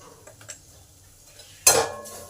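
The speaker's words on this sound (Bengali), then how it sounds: "ভালো করে নেড়ে নেব মশলাগুলোকে যাতে মশলার কাঁচা গন্ধগুলো দূর হয়" A spatula stirs cumin, coriander and turmeric powder frying with ginger in a pan, cooked for a potol cutlet. It gives one sharp, close clatter-scrape after quiet low sizzling.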